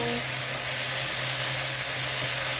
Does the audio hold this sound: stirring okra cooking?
yes